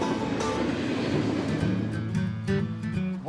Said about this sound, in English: that is the second train that we have heard and seen in just a couple of minutes